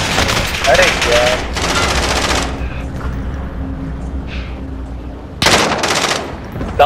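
Rapid gunfire in a shooter video game, with a shotgun among the weapons, comes in loud sustained bursts at the start and again near the end, separated by quieter game noise while players talk over it.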